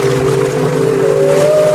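A long, mournful tonal whale cry with rising and wavering pitch rings out over a low rumbling background, sustained throughout.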